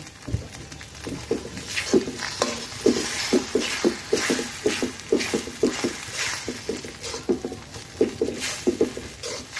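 Beaten eggs with green chillies and black cumin fry in a pan, giving a steady close sputtering patter with rapid irregular crackles throughout.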